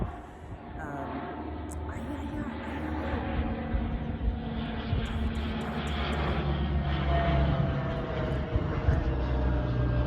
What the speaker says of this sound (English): Surrounded by airplanes and ferries and other things.